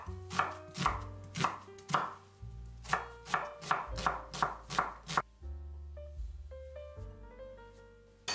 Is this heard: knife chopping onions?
yes